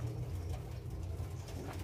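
Low, rolling zebra dove coos repeat continuously in a brief stretch, soft and close, with faint ambient noise behind them, on a dove breeding farm.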